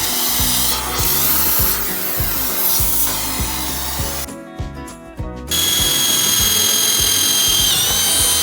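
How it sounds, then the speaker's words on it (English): A power drill boring out stripped screw holes for the hinges of a house door, loud and close, with a high whining motor, repeated rhythmic grinding pulses into the wood, and a brief pause midway. "we're gonna have to drill them out, put a dowel in"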